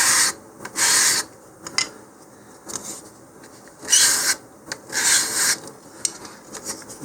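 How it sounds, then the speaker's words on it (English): Sanding the root edge of a balsa fin flat for an Estes Der Red Max model rocket, heard as a series of close, dry rasping strokes in short bursts separated by quiet pauses. "the root edge we want to sand flat, so just enough to take off the little nubs there"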